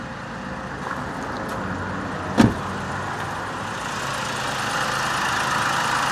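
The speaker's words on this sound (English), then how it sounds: "this is with the engine running" A Chrysler PT engine idling with a steady, even drone, heard close up and alone, with one brief knock-like transient partway through.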